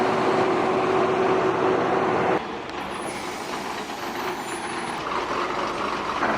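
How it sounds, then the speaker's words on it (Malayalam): A bus arriving at a roadside stop in Kerala on a trip to Wayanad: a loud, steady engine rumble with a high whine that cuts off partway, then a quieter idling hum and hiss with faint background noise. "നമ്മുടെ ബസ് വന്നിട്ടുണ്ട്."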